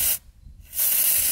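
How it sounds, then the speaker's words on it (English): An aerosol can of rust-protection spray lets out two loud, close hissing bursts separated by a short quiet gap. "I'm going to test spray just to see what the spray pattern looks like"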